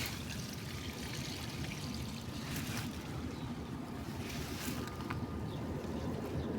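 Water poured over vegetable plants, including lemongrass, in a hot-weather garden: a steady broad wash of splashing and gushing water that runs continuously, close and moderately loud, with no voices.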